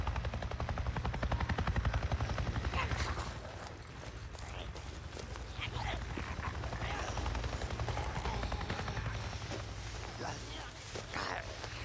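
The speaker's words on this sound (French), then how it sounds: "Je viens de voir un putain d'hélico" A helicopter in the video game Days Gone gives a steady rhythmic rotor chop that holds throughout at moderate loudness, with someone speaking and other game noises mixed in.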